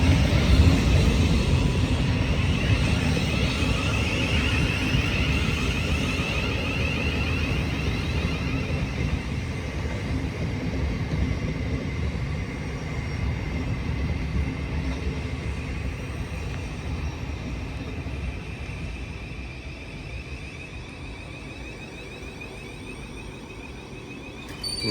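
Thameslink Class 700 unit 700144 passing through South Croydon on the Brighton Main Line: a loud, steady rail rumble with broad hiss that slowly fades over about 25 seconds, with no talk.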